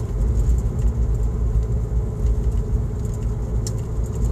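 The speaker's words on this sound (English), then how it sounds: "we're driving" A car on the road gives a steady low engine rumble and road hum, heard from inside the cabin, constant and fairly loud with no breaks.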